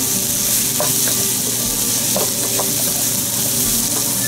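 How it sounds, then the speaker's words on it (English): Paneer and mixed vegetables are stirred together in a hot sizzling pan, producing a loud, steady close sizzle with a few scraping stirs, and no speech. "mix it together well"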